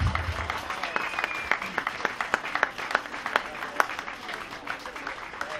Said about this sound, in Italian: continua con l'applauso